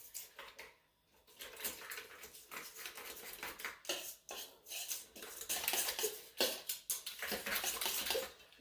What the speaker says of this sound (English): And we're going to give that a nice whisk.